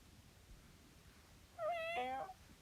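A cat gives a single clear meow, quiet and fairly close, rising and then falling, heard alone against a faint background hum.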